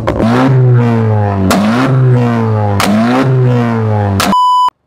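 A car fitted with an aftermarket Picket exhaust revs hard three times in succession, each loud, close rise in engine pitch falling back before the next, followed by a short electronic beep at the end.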